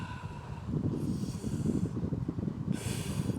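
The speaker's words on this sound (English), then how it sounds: "Let's take a few breaths." Slow, deep breaths during a yoga session, soft airy inhales and exhales close to the microphone, a few drawn-out breaths with no talking.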